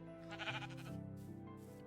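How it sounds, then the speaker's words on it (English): Sheep bleat in a modded Minecraft-style game, two or three wavering, nasal bleats in close succession, fairly quiet and heard alone without talk. "It's definitely force feeding that poor sheep."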